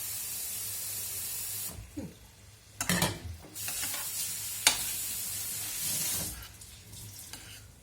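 Vegetables for leek dolma being stirred in a pot in a home kitchen, with intermittent scraping, stirring bursts and a soft sizzle-like hiss over steady background noise, no talk.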